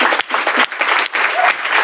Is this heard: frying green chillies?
no